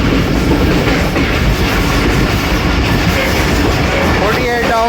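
The Rehman Baba Express rolls through Domeli station with a loud, steady rumble of wheels and rail clatter that fills the whole stretch, and a faint squeal rises near the end.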